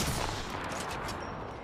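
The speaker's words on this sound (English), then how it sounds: "getting shot at!" Dense, continuous gunfire in a video game firefight, a sustained rattling barrage that fills the moment without pause, heard while under fire.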